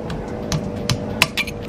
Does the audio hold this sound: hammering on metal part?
yes